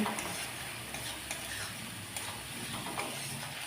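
Ground cumin, turmeric, chili powder and salt stirred and fried in a kadai, a steady close sizzle with repeated scraping strokes of the spatula at an even rhythm and no voices.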